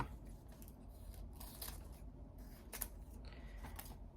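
Scissors snip off a clothing tag from a cosplay garment, giving a few quiet, separate cuts over a soft background hush, with no talking.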